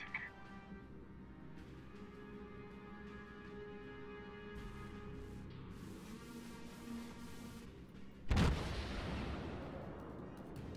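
Heavy naval gunfire from a warship firing on the cruiser Pensacola in World of Warships, a single loud blast near the end over a steady hum of engine and sea ambience.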